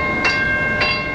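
A light rail test train rolls along new Foothill Gold Line tracks, a steady close rumble with a sustained high tonal whine and two soft rhythmic clacks, no voices.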